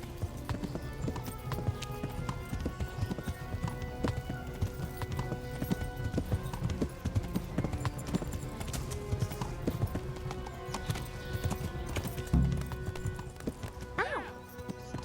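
Horse hooves clip-clop steadily in the medieval game Kingdom Come Deliverance, a busy rhythmic trot close by over an ambient background, with a horse whinny near the end and no talk.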